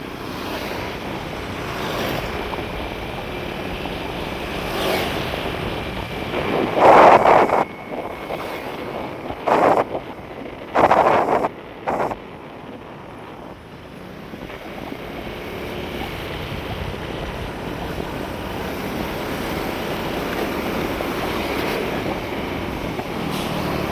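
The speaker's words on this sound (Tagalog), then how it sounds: "Tama silip na rin tayo dyan sa dagat." Wind and sea waves roll in at the shore, a continuous rushing wash with buffeting gusts against the microphone, heaviest in bursts near the middle.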